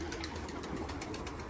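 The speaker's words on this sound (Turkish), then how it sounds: "Van kuşlarımız var arkadaşlar" Van pigeons coo softly inside a coop, low murmuring calls repeating in a quick pulse against a steady background hiss.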